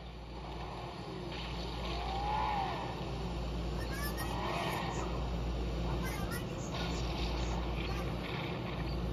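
A car engine drones steadily through a Fortnite match, with a wind-like rush and boat-like motor hum, and a voice talking over it.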